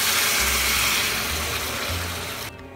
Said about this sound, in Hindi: अभी पानी डाल देते हैं।